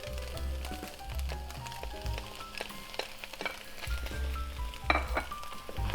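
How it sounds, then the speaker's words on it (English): Steak added to a pan of cooked vegetables for tacos, fried until medium well, with steady close sizzling and a few utensil clinks over the running fry. "When the vegetables are done, it's time to add steak."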